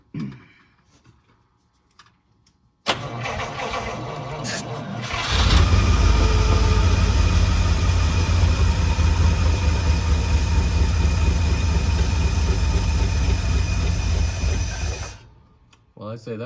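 A 1952 Cadillac barn find, running on fresh fuel, cranks over and catches with a loud rumble, then settles into a steady close idle for about ten seconds before cutting out.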